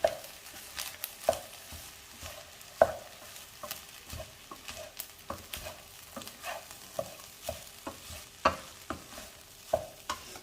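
Egg rice is stirred in a pan with a spoon, producing repeated scraping and clacking strokes at an irregular rhythm over a soft, low sizzle, close and fairly quiet, with no speech.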